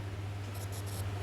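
A pen scratches across paper while maths is written out, three short close strokes over a steady low hum.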